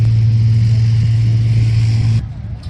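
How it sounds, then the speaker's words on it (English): An aircraft engine being started at a motoring pageant runs as a steady, droning hum with a strong low tone, heard in the background at moderate level before cutting out abruptly near the end. "that noise in the background is an air engine being fired up"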